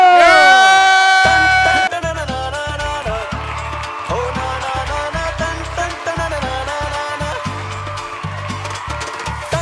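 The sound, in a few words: studio audience applause and cheering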